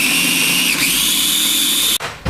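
A blender grinds a salty mixture of bacon and a glug of Worcester sauce for beef Wellington, a loud, steady high-pitched motor whine that dips briefly, then cuts off abruptly near the end.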